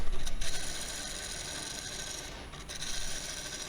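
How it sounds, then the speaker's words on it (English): A small bowl gouge hollows the inside of a red mallee burl winged bowl spinning on a wood lathe, giving a steady, close rasping scrape that swells slightly at the start and end, with no talking. "Now just kind of patiently removing the material from the inside of that bowl"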